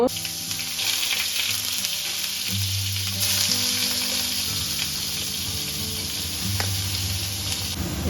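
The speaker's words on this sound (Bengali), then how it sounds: "এগুলো একটু ভেজে নেব" Sliced flat beans and eggplant sizzle steadily in hot oil in a pan, a constant crackling hiss with occasional low stirring knocks, close and continuous throughout.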